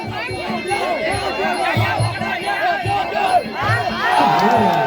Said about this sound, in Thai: ยกที่สองเสียงเชียร์เริ่มีนะครับ